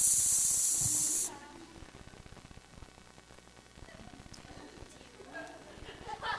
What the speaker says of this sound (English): Haru, could you light these black fireworks, please?